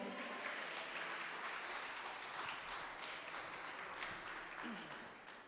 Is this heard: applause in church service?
yes